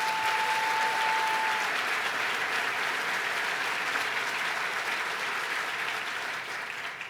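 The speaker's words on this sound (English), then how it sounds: "Let's give her a round of applause" A large audience at a New York governor's address breaks into loud, sustained applause, a dense even roar of clapping that barely fades toward the end.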